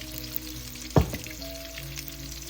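Oil sizzling in a pan while aromatics are sautéed for Filipino lomi egg noodle soup, a low steady frying hiss with one sharp burst of sizzle about a second in, no talking.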